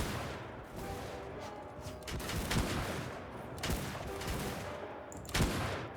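Matchlock gunners in the Shokuho samurai strategy game keep firing ragged volleys, a dense rolling crackle of overlapping shots with louder bursts every second or so, sustained and fairly close throughout.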